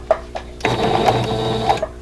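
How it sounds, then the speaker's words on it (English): A sewing machine stitches quilt block squares from corner to corner, starting with a couple of single needle taps, then running in a loud, close, steady whir for just over a second before stopping with a click. "I'm going to sew from the corner here to the corner here"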